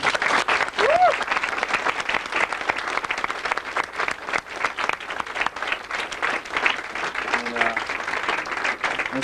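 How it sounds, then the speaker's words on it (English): Crowd gathered to honor Battle of the Bulge veterans claps steadily and loudly for the full stretch, a thick wash of hands with faint voices mixed underneath. "Let's give him a round of applause"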